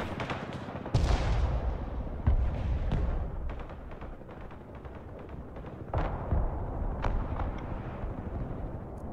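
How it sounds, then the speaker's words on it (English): Artillery strikes in the war game Broken Arrow land as a string of heavy booming impacts, spaced a second or two apart, with rolling rumble and scattered crackle of gunfire between blasts. "I'm gonna drop some artillery here."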